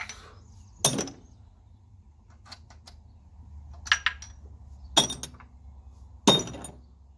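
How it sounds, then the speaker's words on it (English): Metal clinks from bolts being taken out of a 1954 Ferguson 20 diesel tractor engine during a strip-down: four or five sharp, bright clinks spaced a second or so apart, close by, over a quiet low hum. "Take out the bolts."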